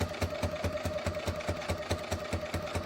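A sewing machine stitches binding onto a quilt at a moderate, steady pace, its rapid needle thumps repeating evenly and close up with no talking.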